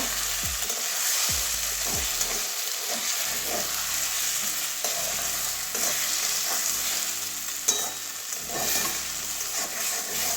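Pointed gourd stir-frying with egg in a pan, a constant close sizzle with repeated scraping strokes of a spatula and occasional knocks against the pan.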